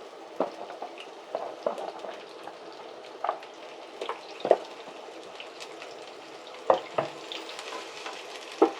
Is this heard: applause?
no